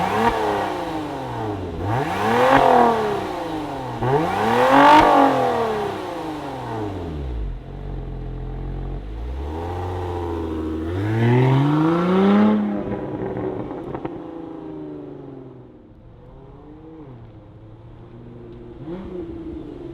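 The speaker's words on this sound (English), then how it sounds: "let's fire it up and hear that active exhaust" A supercharged Lotus Emira sports car fires up and revs through its active exhaust, with several sharp rising and falling blips, then a rumbling idle and more revs before it settles to a lower idle, loud and close with no talking.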